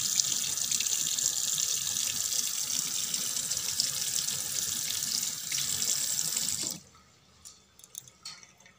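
Tap water runs steadily from a household tank line, a continuous close splashing hiss that stops abruptly near the end, leaving a quiet room with a few faint drips and small knocks.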